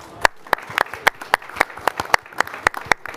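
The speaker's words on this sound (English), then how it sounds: "I'd like to ask you to give a big applause to our panelists" Sparse, fairly even hand claps from a small audience at a panel session at ICESCO's pavilion at COP 29: a dozen sharp, distinct claps over a faint room hum.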